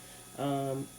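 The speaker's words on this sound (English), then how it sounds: "So that is the sound of just, it's very low buzz." An iGel Beauty electric nail file gives a brief, steady low buzz, faint and close, rising for about half a second over quiet background hum.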